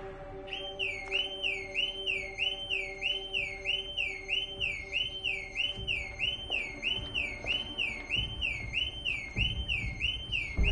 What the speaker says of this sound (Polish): Po co włączyła się alarm?